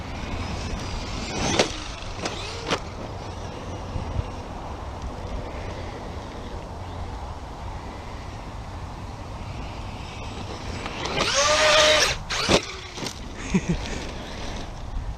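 A Traxxas Maxx RC truck is driven outdoors, mostly a distant steady hum and wind, then a louder whining motor burst near the end with short revving spurts, plus a couple of sharp clatters earlier.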